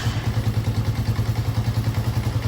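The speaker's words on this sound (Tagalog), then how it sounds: "Tayagin pala natin yung response ng electric starter ng motor na to." A Motorstar Starx 125 motorcycle engine, fitted with a TMX Alpha 125 carburetor, runs steadily after a one-click electric start, its close, loud idle thumping in an even rapid pulse.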